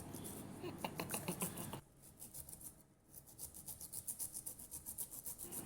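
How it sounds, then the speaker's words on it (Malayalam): A knife peels fresh pineapple in quick, rhythmic rasping strokes, quiet and close, with a brief pause partway through. "ഇപ്പോൾ ഞാൻ എടുത്തിരിക്കുന്നത് രണ്ട് പൈനാപ്പിളാണ് ഇതൊന്ന് നൈസായിട്ട് പീൽ ചെയ്തെടുക്കാം"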